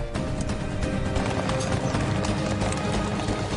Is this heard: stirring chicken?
no